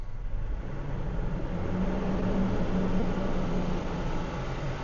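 A car engine revs up and holds at around 2,500 RPM, making a steady, moderately loud rumbling drone with no one talking over it.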